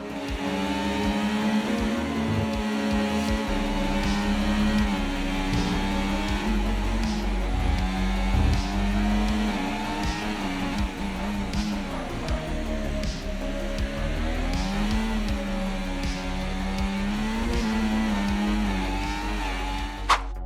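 A Formula 1 car at full speed around the Monaco street circuit in F1 24, its engine howling steadily with rising and falling pitch through gear changes, loud and continuous with no talking.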